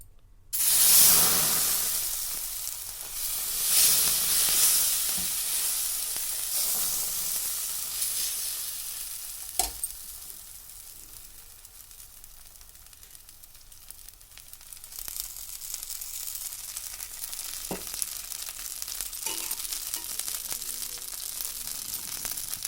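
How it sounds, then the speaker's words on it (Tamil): Adai dosa batter with greens and onion poured onto a hot pan, giving a loud burst of sizzling that settles into a steady hiss and crackle, with a few soft spatula knocks and no talking. "இப்போ நம்ம தோசை ஊற்றிக்கலாம் வாங்க"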